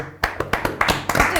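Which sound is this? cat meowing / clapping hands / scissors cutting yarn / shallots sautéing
clapping hands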